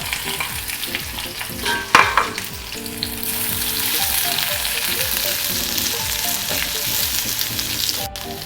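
Crushed ginger, garlic and green chili frying in a pan of oil, a steady bright sizzle with a sharp burst as they hit the pan and occasional stirring scrapes, continuing without talk.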